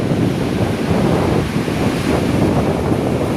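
Unchalli Falls waterfall roars in a steady, loud broadband rush of falling water, continuous and unbroken with no voices, carrying a windy, surf-like wash throughout.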